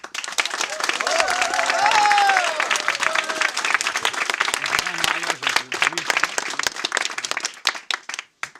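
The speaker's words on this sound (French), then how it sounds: "je vous demanderai déjà d'applaudir" An audience bursts into sustained applause for a centenarian, the clapping swelling then thinning toward the end, with a voice speaking over it.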